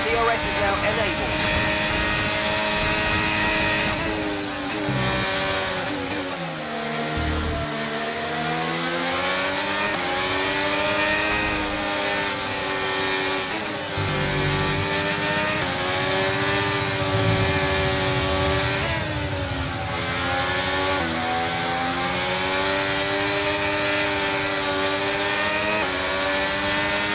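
Race car engines in a racing video game rise and fall continuously as cars accelerate back up to racing speed with DRS enabled, a loud steady whine of several engines sweeping in pitch, with a voice speaking over it.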